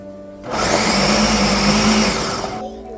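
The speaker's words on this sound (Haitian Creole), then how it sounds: "Et on va le blender." A kitchen blender whirs loudly for about two seconds, puréeing Haitian epis ingredients such as celery, vinegar, lemon and olive oil, starting abruptly and cutting off with no talk.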